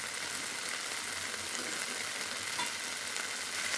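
Chilies and bay leaf frying in hot oil, giving a steady, dense sizzle with a fine crackle throughout, close and constant with no voices.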